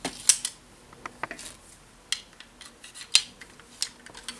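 Metal staples being loaded by hand into the slot of a hammer stapler make a quick series of sharp, light metallic clicks and taps, close and fairly quiet, with no talking.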